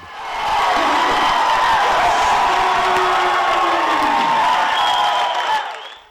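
A loud crowd at a high school basketball game erupts in cheers and whoops after a slam dunk, a sustained roar that swells quickly, holds, then fades away.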